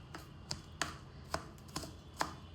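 Garlic chopped on a cutting board with a kitchen knife: about seven sharp, evenly spaced chops, close and fairly quiet, with no talking.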